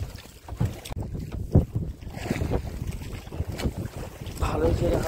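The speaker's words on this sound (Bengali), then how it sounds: "ভালোই ছেড়ে হাওয়া চলছে বন্ধুরা" Wind gusting across a fishing boat out on open water, rough buffeting rumbles and flutters on the microphone rising and falling, with faint water movement beneath.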